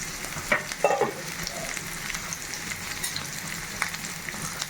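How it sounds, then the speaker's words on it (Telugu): Onions frying in a pan for a home-style chicken fry, with a continuous close sizzle and a few brief stirring clinks, no voices. "ఉల్లిగడ్డ వేసుకుందాం. ఫ్రై కాబట్టి కొంచెం ఉల్లిపాయ ఎక్కువనే వేసుకోవాలి, బాగుంటుంది."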